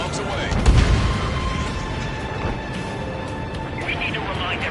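Bombs detonating in the air-combat game Ace Combat 7, a deep rumbling blast near the start that decays into a long low roar, heard under ongoing voices.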